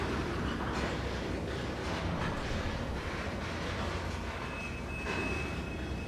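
A train in Trainz 2022 on the Tidewater route rumbles steadily under a full train brake, with a broad continuous roar and a thin high squeal appearing toward the end.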